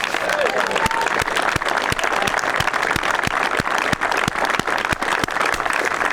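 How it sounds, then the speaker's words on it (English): Sustained audience applause for an angling champion at a spring fishing festival on a farm, dense steady clapping with a few louder individual claps standing out, loud and continuous throughout. "Big round of applause for Leon Seabright."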